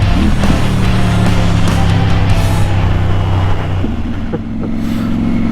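A motorcycle engine with a quick shifter drones steadily and close on a road through Snowdonia in North Wales, then shifts gear with a quick dip and change in pitch near the end.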